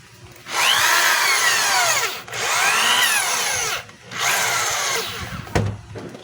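A DeWalt DWD024 half-inch hammer drill, freshly fitted with a new armature and field coil, runs in three loud sustained bursts with a whining pitch that rises and falls, separated by brief stops.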